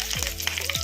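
Dried red chillies and curry leaves frying in hot oil for a tempering, making a brief, close, continuous crackling sizzle.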